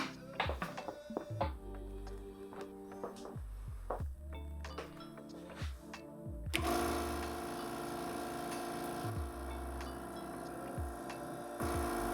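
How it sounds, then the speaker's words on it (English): Irregular knocks and thumps give way to a steady mechanical hum of a vacuum press pump running continuously, drawing air from a bag over walnut veneer layers, fairly quiet and close. "The vacuum press removes all of the air from the bag"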